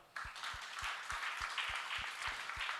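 A church congregation claps together in a steady, even rhythm, about three claps a second, loud and close with no talking over it.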